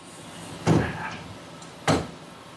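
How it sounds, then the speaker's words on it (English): Manual door on an EDM wire cut machine opening, with two loud, sharp clunks about a second apart and a faint rattle between them. "the door is manual"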